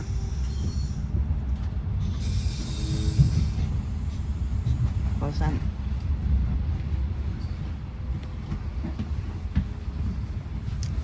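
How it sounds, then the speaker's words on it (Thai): A moving passenger train travels between stations in Germany toward Switzerland, heard from inside the carriage as a steady low rumble of wheels and motion with faint clicks and a brief higher whine. "ชมบรรยากาศบนรถไฟเนาะ ในรถไฟรถไฟ รถไฟจริงๆนะ"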